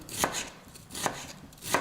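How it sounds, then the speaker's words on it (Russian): Three sharp knife chops through an onion on a cutting board, evenly spaced about a second apart, close and crisp with quiet pauses between. "Нарезаю лук."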